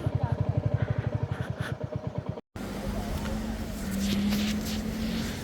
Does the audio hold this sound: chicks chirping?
no